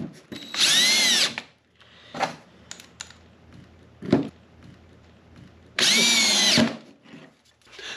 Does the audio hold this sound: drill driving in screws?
yes